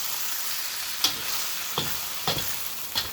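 Wild rice with Thai pepper fries in a pan with a continuous bright sizzle, broken by four or five sharp stirring scrapes close by, no voices.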